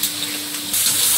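Water poured into a pan of cooked spice masala with green chilli paste, a steady gushing pour that swells louder toward the end, with no voices.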